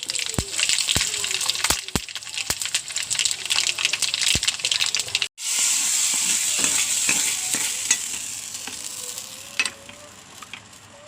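Fenugreek seeds and dried red chillies crackle and sputter in hot oil in a pan, with sharp popping bursts over a continuous sizzle, briefly cutting out midway before the frying resumes.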